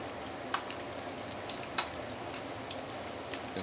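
Pork belly deep frying in hot oil, a steady close crackling sizzle with occasional sharper pops, with no talking.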